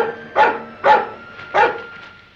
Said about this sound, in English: What's the matter with that dog?